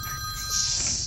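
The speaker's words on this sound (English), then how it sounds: "I gotta answer that phone." A telephone rings in a Garry's Mod Trouble in Terrorist Town match, a short, steady bright electronic trill that holds loud over a low rumbling game background.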